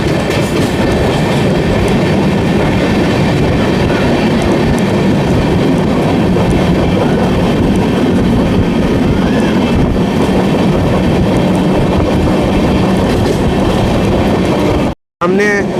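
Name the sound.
Amrit Bharat Express train accelerating past Kumhari station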